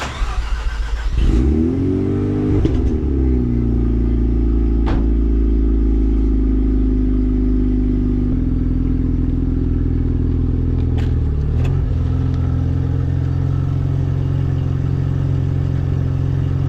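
A Mazda RX-7 with a turbocharger and a newly replaced throttle body gasket revs up from idle, its engine note climbing and then holding a steady, loud drone while driving, with brief clatter partway through.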